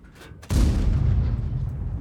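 A tank gun fires in World of Tanks, piloting the Chrysler K heavy tank: one sudden deep boom about halfway in, followed by a long rumbling tail over low battle ambience.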